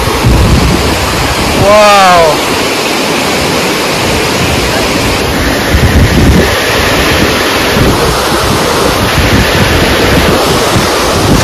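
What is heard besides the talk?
waterfall at Aswali Dam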